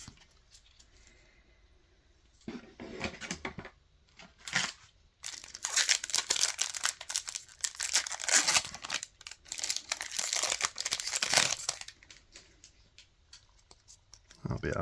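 Crinkling foil wrapper of a Magic Foundations Play Booster card pack being torn open close by, with bursts of crackling and rustling over several seconds and a voice talking.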